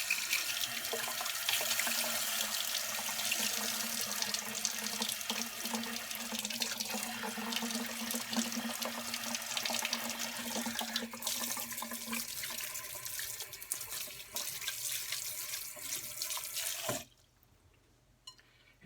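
Tap water runs steadily into a kitchen sink to rinse fresh homemade butter, a close, continuous splashing rush that shifts slightly in tone before cutting off abruptly near the end.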